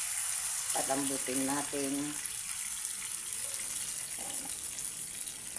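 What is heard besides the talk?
water poured into a pot for chicken sinampalukan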